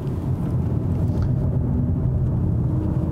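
A 2021 Acura TLX Type S at full throttle gives a loud, deep, steady engine roar with heavy low rumble, sustained and close without letup.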